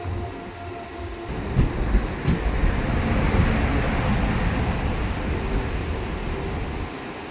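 The Krishna Express train rolls through Malkajgiri station with a steady, loud rumble and faint wheel clatter, a continuous rail noise with no voices over it.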